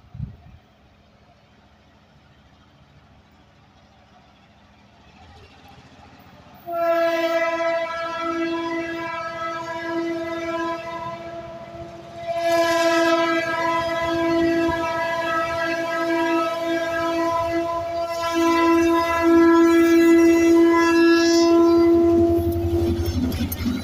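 A southbound Hartwell Railroad freight train sounds its horn in long, loud, sustained blasts over a rumbling, rolling passage, growing louder as it nears, with no talking.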